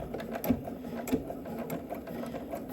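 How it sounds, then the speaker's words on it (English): A sewing machine stitches through swimsuit bra lining and boning, a quiet, steady mechanical hum with light rhythmic needle clicks throughout. "we're going to be stitching through the bra lining or through the bikini lining and through the other side of the boning"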